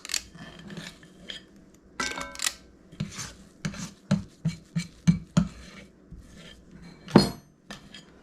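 Gluten-free biscuit dough scooped with a 1/4 cup cookie scoop, giving a series of soft scraping and sticky plopping sounds in an uneven rhythm, with a few sharper metallic clicks and scrapes of the scoop against a bowl, close and fairly quiet.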